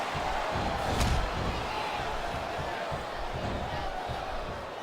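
Arena crowd in the WWE SmackDown vs RAW 2008 video game gives off a steady, loud roar, with a brief thump near the start.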